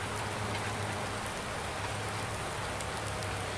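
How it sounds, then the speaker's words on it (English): Steady rain falls in the farming video game Farming Simulator 19, a continuous hiss of drops on surfaces with a faint low hum beneath, even and unbroken throughout. "so when it did start to rain, I was like, oh shucks, not what we really want to be doing."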